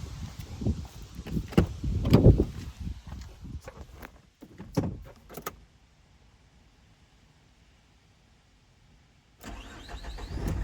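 A 2011 Renault Trafic passenger van with a 2.0 diesel engine cranks and fires up near the end, after faint handling noises and a quiet pause.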